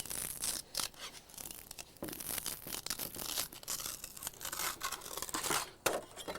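A vacuum-bagged composite plate about 1/16 inch thick is peeled away from a glass surface, giving a faint, continuous crackling, tearing and rubbing sound that works steadily around the part with no talking.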